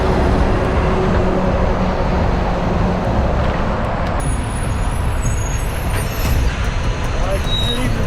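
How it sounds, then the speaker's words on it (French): A heavy truck rumbles past cyclists on a road through an industrial area, a loud, close roar that swells and then eases off as it goes by, with wind noise and brief talk. "Ah, camion."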